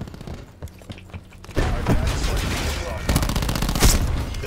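Rapid gunfire from a Saug 9mm and MOG 12 in a Black Ops 4 domination match, loud dense bursts after a quieter opening, mixed with game effects and a voice talking over it.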